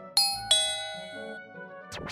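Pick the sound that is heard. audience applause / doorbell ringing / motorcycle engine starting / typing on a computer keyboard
doorbell ringing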